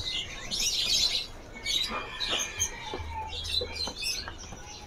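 Small caged songbirds at a bird seller's kiosk in a market give bright, repeated chirps and tweets in a lively chorus, with fainter clucking-type calls and a low hum of background activity underneath.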